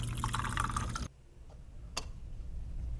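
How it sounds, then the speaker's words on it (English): Clean water pours into the water holder of a Nespresso Essenza Mini coffee machine, a loud close splashing fill lasting about a second, then a quiet pause and a single faint drip. "Now we're going to pour clean water into the water holder."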